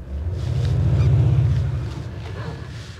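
A Maserati Ghibli engine with a clattery character swells into a loud, low rumble, then fades back to a quieter drone.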